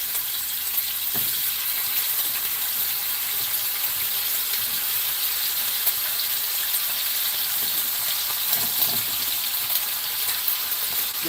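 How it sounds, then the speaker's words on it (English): Steady crackling sizzle of bacon frying in a pan, continuous and close, with a couple of brief soft clatters and no voices. "Some more bacon going."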